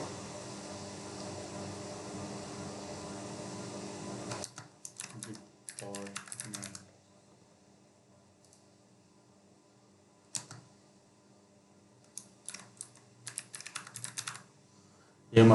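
Keyboard typing in an English department name on a computer, heard as short bursts of clicks separated by pauses, faint and close, with no talking.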